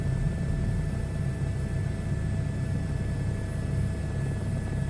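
A helicopter in Microsoft Flight Simulator 2024 flying steadily, a constant loud rotor and engine drone with broad rumbling noise and faint steady whine, unbroken and without talk.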